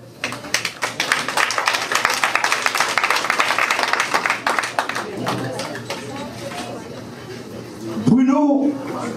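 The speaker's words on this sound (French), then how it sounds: "Je vous demande d'applaudir cela." An audience at Mr Bruno's birthday party claps in a brisk, loud burst that gradually thins and fades, with murmured chatter mixed in and a voice speaking near the end.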